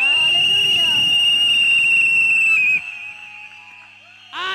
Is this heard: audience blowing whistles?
yes